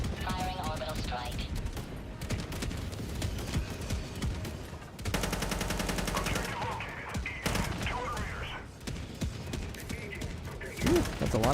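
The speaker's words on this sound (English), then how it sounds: "Firing orbital strike." Orbital strike in Helldivers 2 set off near the Palatine outpost, a dense roar of blasts and rapid gunfire-like bursts with a sharp loud surge midway, all tangled with game music and a voice talking over it.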